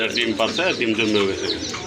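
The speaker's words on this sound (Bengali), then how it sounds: "খুবই সুন্দর আরেক জোড়া কবুতর" Soft, throaty pigeon cooing close by, rolling and bubbling over a busy, noisy background.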